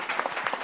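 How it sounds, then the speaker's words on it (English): Audience applause for a panel at a conference, a brief burst of steady clapping from a crowd. "So just give this a round of applause to this incredible panel"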